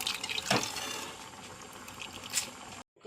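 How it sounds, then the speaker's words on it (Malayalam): Blended curd poured into a pot for a Kerala moru curry, a smooth continuous liquid pour close up with a brief splashy burst early on, ending abruptly. "തൈര് അടിച്ചത് ഒഴിക്കണം"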